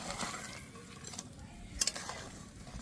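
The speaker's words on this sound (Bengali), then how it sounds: "এবার আমি ভেজে রাখা মাছগুলো দিয়ে দেব।" Fried katla fish pieces go into a simmering mustard-poppy seed curry, giving a steady low bubbling sizzle with soft stirring scrapes and a brief sharp clink of utensil against the pan near the middle, no voices.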